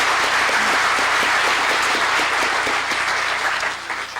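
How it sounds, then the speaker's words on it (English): An audience at a Ball State University lecture applauds Colin Reeve and the light show, a dense, steady wash of many hands clapping at close range that holds throughout and eases slightly at the end. "If we could have a round of applause for Colin Reeve and the light show"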